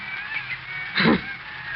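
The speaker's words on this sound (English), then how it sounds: "The seagulls again." A single seagull cry used as a sound effect in a suspenseful old radio drama, one short honking call near the middle over a quiet, steady background hum.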